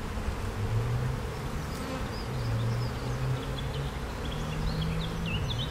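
Honeybees in an opened hive in Chartres, around a brood frame, buzz in a dense, close, continuous drone, with individual bees' wingbeats rising and falling over the steady hum and no voices.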